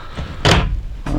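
A wardrobe closet door in a 1999 Newmar London Aire 4082 motorhome gives a couple of sharp, close thuds, with a quieter knock just before.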